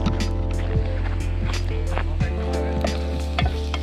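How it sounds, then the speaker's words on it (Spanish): Onion frying in a pan on a beach cookout, being stirred, with a steady sizzle and occasional scraping knocks, close, over a low background hum, with no talking. "Le vamos a dar una movidita a la cebolla."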